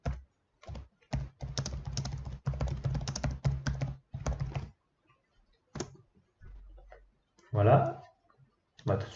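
Fast bursts of clicky typing on a computer keyboard while entering a unit cost calculation in an Excel spreadsheet, close and crisp, separated by pauses, with a voice talking at moments.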